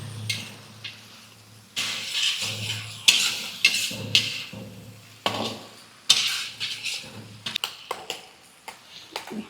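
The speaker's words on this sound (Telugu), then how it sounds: "ఇక అల్లం వెల్లుల్లి పేస్టు బాగా కలపాలండి పచ్చివాసన పోయేంత వరకు." Ginger garlic paste is stirred in a hot pan for a curry-leaf chicken fry, heard as irregular bursts of metal spoon scraping and clattering against the pan, with quiet gaps between strokes.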